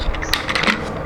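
A few light plastic clicks as the engine of an Indian toy train is coupled to its cars. The clicks are close and quiet over a faint background hiss.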